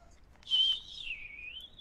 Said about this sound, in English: It's just a soft, low whistle.